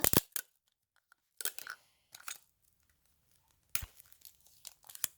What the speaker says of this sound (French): J'ai pris un petit bout de scotch.